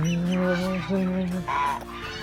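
Geese and ducks on a farm give loud, close honking calls, a few drawn-out nasal honks in a row that rise in pitch toward the end.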